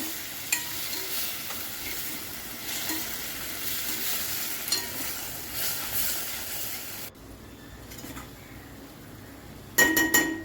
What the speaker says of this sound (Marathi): परत कोथिंबीर तेलात थोडीशी फिरवून घ्या